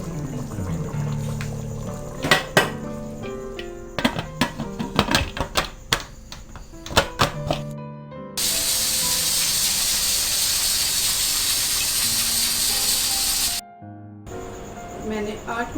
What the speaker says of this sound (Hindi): मैंने 8 मिनट तक कुकर चलाया है